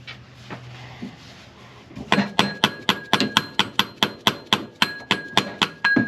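Repeated metal-on-metal hammer taps seat a bolt on a Pontiac Fiero power pulley, about fifteen sharp, evenly spaced ringing strikes at close range with no talk.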